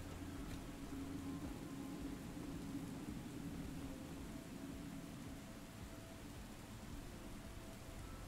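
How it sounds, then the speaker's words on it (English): Rain falls underground in the video game Deep Rock Galactic. It makes a soft, steady hiss with a low rumble beneath it, faint and unbroken throughout. "It's raining underground."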